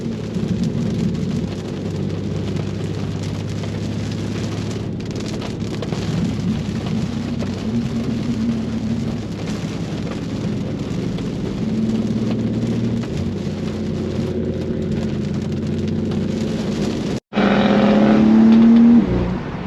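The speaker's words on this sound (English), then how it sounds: "Got a lot of rain right now though" Rain patters on a BMW G87 M2 while driving on farm roads, a steady hiss of drops over the low drone of the engine and tires, ending in a brief surge of engine revving.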